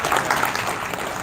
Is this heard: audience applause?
yes